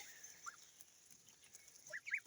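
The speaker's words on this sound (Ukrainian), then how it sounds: "То гусочка холмогорка." Kholmogory goslings about three weeks old give a few faint, high peeping calls, one early and a small cluster near the end, against quiet background.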